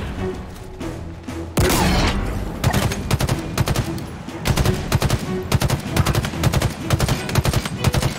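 Weapon fire in Halo Infinite: rapid bursts of loud gunshots, a heavy blast followed by fast repeated automatic fire in clusters, close and dominant.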